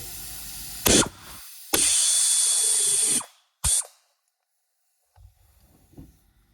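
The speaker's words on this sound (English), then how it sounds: "We're going to first start by removing this crank sensor. It's just one 10mm bolt." A power tool removes a 10mm bolt from the crank sensor of a Toyota 2.4L engine in a few close, hissing, whirring bursts, one longer than the rest, followed by near silence and faint handling noises.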